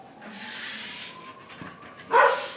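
Bruno, a neighbor's dog, gives a single sharp bark outdoors near the end, after a couple of seconds of quiet background noise.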